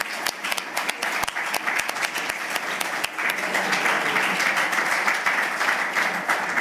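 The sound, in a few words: applause approving a contribution at a conference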